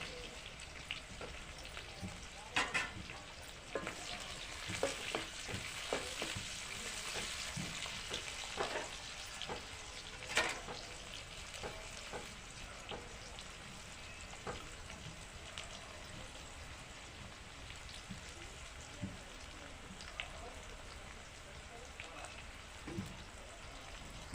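Chopped onion frying in hot oil in a pan while cooking dal, a steady soft sizzle and crackle running throughout with occasional faint stirring clicks, fairly quiet.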